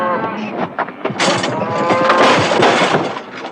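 Beef cows moo loudly and continuously during a veterinary pregnancy check on a cattle ranch, several overlapping drawn-out calls forming a dense, close chorus.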